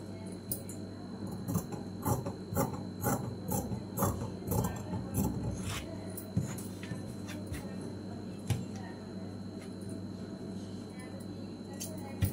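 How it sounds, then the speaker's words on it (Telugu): Scissors cutting blouse fabric, a quick run of crisp, close snips in a steady rhythm that thins out into a few sparse cuts. "ఇప్పుడు దీన్ని కట్ చేసేసుకోవాలి."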